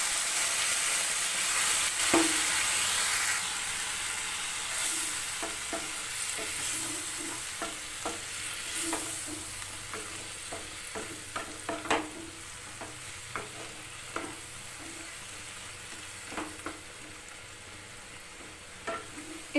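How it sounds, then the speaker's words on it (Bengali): Fig curry simmering in a pan as coconut milk goes in, with a steady soft sizzle and spoon scrapes clicking against the pan at irregular intervals, close and moderately loud, no voices. "এখানে আমার ভালো করে সব কষা হয়ে গেছে, নারকেলের দুধটা দিয়ে দিচ্ছি।"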